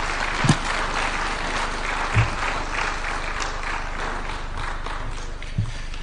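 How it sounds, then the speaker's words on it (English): Sustained audience applause following the Chancellor's speech at a University of Nairobi event, a steady broadband patter of clapping throughout with a few louder thumps standing out. "Another round of applause for the Chancellor for excellent delivery."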